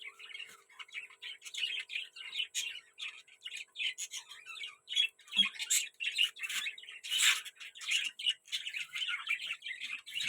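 Madras pigeons kept indoors give a busy stream of thin, high squeaky chirps and squawks, close and moderately loud, continuing for several seconds without talk.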